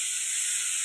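Tomatoes frying in a pan make a steady, even hiss that runs continuously at close range, with no talking.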